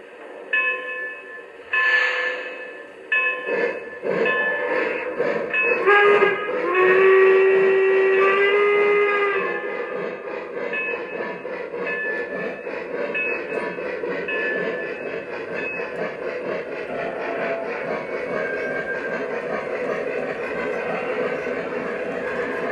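A model train's whistle sounds in several blasts over a rumbling, clattering engine, then the train keeps running steadily with a continuous mechanical hum.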